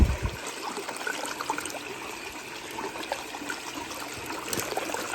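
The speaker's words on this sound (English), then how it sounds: "think it's just an 1100 gallon per hour pump, bilge pump, running off a 12 volt out of the ute." Water pumped by an 1100 GPH 12-volt bilge pump run off a ute battery, splashing and trickling steadily into a gold sluice, a continuous close wet patter with no talk.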